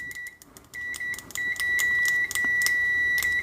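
Beeps from a ZOYI ZT-R01 multimeter running a continuity test with its stock default test leads: a steady high tone sounds repeatedly, with short tick-like clicks as the probes make contact, close and clear with no talking.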